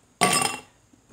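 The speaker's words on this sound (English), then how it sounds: "5 cubes of ice in your glass" Ice goes into a glass for a classic White Russian: one sharp, bright clink close by, followed by a brief ringing decay and then quiet.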